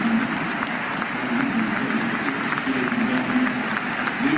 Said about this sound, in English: Just listen to sort of the round of applause he got when he came off late